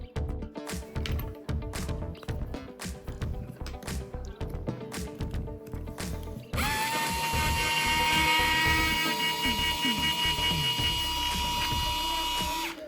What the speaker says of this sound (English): Decent little screwdriver.